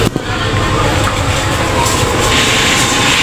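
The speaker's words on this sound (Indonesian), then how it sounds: "Ternyata ini adalah kereta api Pasundan yang memiliki relasi Kiara Condong tujuan akhir stasiun Surabaya Gubeng." The Pasundan passenger train rushes past close by with a loud, steady rumble and rattle of wheels and carriages.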